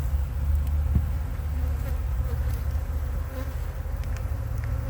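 A close, dense drone of honeybees at a package beehive with a plastic divider frame, steady and unbroken, with no talking.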